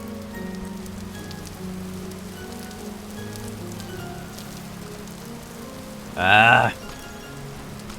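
Steady rain patters across a surface in the sandbox game Vintage Story, a continuous wash of drops that carries on throughout, with a short burst of voice near the end.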